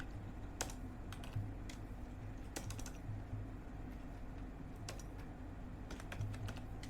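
Keys tapped on an HP laptop keyboard to enter a short command, a sparse series of close, light clicks over a quiet background hiss.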